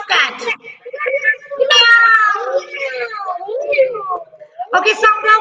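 Voices mimicking a cat's meow in a classroom setting, several drawn-out, wavering meows in a row, close and loud, with speech-like vocal quality.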